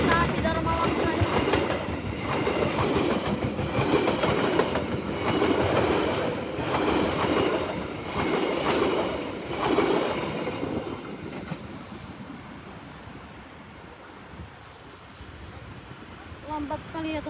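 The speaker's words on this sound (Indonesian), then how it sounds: "Lambat sekali ya teman-teman, kereta api Dharma Wangsa ini." The Dharma Wangsa passenger train rolls slowly past, a loud close rumble with rhythmic wheel clatter that gradually fades, while a voice talks over it.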